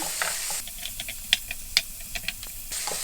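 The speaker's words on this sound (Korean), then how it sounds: "주걱으로 볶겠습니다" Beef is stir-fried with a spatula in a pan for bibimbap: a low sizzle underlies close, irregular scrapes and sharp ticks of the spatula against the pan, with short pauses between strokes.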